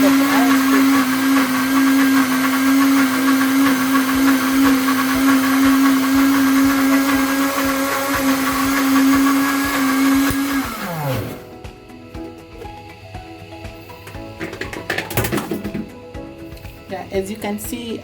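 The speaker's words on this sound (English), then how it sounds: "I'm going to blend it to highest speed." A kitchen blender whirs at top speed blending homemade mayonnaise with sugar, a loud steady motor whine that winds down and stops partway, followed by quieter handling noises and brief clatter.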